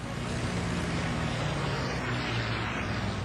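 A P-51 Mustang fighter's piston engine drones loud and steady through a tight dogfight turn, with propeller roar filling the air continuously and no voices.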